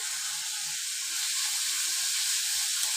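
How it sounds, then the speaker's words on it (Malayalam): Onions sauté with salt in a pan, a continuous bright hissing sizzle held at an even level for the whole stretch, close and unbroken by speech. "വഴറ്റാൻ വെച്ച ഉള്ളികളെല്ലാം നല്ലപോലെ വഴന്ന് വരുന്നുണ്ട്."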